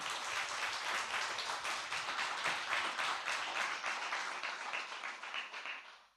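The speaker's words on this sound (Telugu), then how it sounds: "గట్టిగా చప్పట్లు కొట్టురా" A church congregation claps loudly and steadily in a dense, continuous burst of applause throughout, fading slightly toward the very end.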